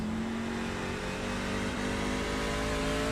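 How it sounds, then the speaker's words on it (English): Race trucks on the Milwaukee oval roar past at speed, their engines dropping in pitch as they downshift to third gear, heard steadily and fairly faint with no talk. "you hear the downshift where these guys got to go down to 3rd gear"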